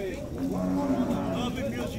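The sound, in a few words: cattle mooing at livestock fair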